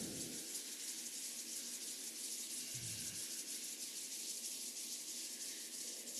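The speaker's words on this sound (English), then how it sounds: "Rub the palms together." Palms rubbing together during a qigong warm-up, a steady soft hiss of skin on skin continuing close and alone throughout, with no talking.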